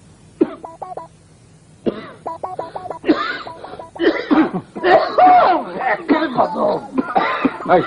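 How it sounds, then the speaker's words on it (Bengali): A person in a drama coughs repeatedly, first in short bursts and then in harder fits mixed with throat clearing and choked laughter, close up, with speech-like voicing running between the coughs. "যতই আটকাই কাশি ততই বাইরে হয়ে আসে"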